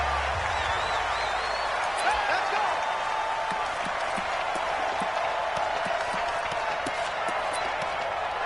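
A big stadium crowd roars steadily throughout an American football video game, Philadelphia Eagles against Washington, a dense unbroken wash of cheering with faint sharper pops scattered within.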